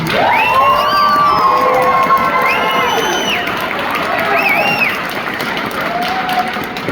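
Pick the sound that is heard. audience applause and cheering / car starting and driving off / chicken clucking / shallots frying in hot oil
audience applause and cheering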